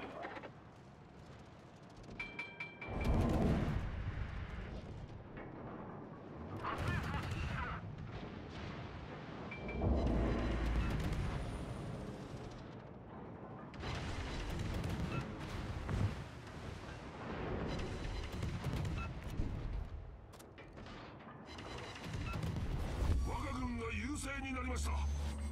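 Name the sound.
naval guns firing in World of Warships video game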